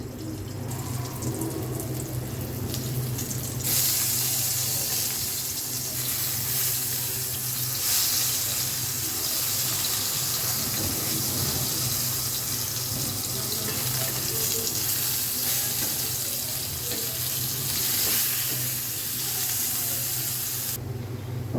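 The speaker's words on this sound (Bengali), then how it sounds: "আস্তে আস্তে ভাজতে হবে" Continuous hissing sizzle of taro frying slowly in hot oil in a pan, steady throughout with a faint low hum underneath.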